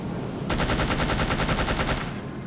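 Rapid automatic gunfire from the shooter game No One Lives Forever rattles off in an even, fast stream of loud shots lasting about a second and a half.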